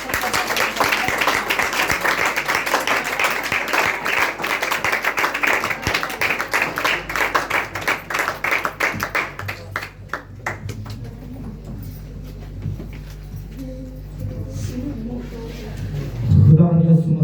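An audience at a Hindi-language Christian gathering claps in a dense, sustained burst for several seconds, the applause thinning out midway as a voice and a low hum take over.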